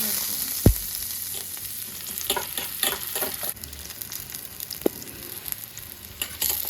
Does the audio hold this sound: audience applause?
no